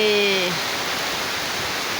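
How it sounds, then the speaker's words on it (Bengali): Heavy rain pours down as a dense, steady wash of hiss, loud and close, with a brief voice fading out right at the start. "দেখেন অনেক বৃষ্টি হচ্ছে অনেক বৃষ্টি অনেক বৃষ্টি হচ্ছে"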